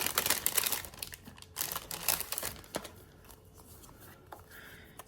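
Plastic packaging of a sticker-by-number kit being opened, with close, busy crinkling and tearing bursts that are dense at first and then thin out into softer rustles.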